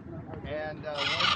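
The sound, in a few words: parrot calling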